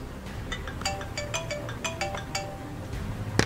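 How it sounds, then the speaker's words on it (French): A mobile phone ringtone plays a bright, rhythmic electronic melody of repeated short tones, moderately loud over a quiet background and ending abruptly. "Ah, mon téléphone."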